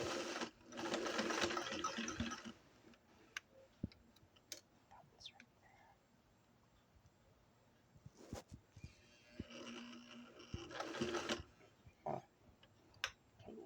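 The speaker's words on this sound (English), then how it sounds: "I'm going to stitch it back and forth again along that top stitch line." Sewing machine running back and forth along a garment's top stitch line near the neckline, in two short bursts of close, steady whirring with quiet ticks and handling noises between them.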